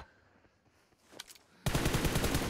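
Rapid automatic gunfire from a video game, loud and dense in the second half after quieter, scattered shots.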